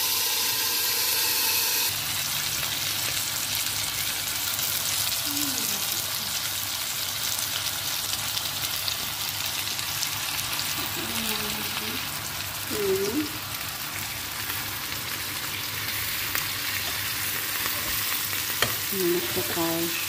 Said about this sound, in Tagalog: I-grill. I-grill lang natin siya.